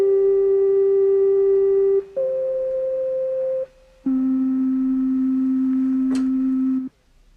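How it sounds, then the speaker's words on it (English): Pure synthesized sine-wave tones, smooth and flute-like, hold steady at three different pitches in turn, each separated by a brief gap, with one sharp click partway through. "The sound of a sine wave is absolutely pure and flute-like."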